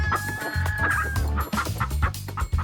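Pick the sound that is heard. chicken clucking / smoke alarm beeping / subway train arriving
chicken clucking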